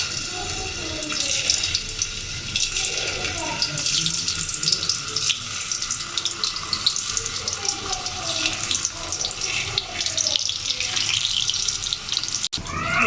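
Potato french fries sizzle in hot oil, a dense, continuous crackling hiss at close range that stays loud and even throughout with a sharp clink near the end.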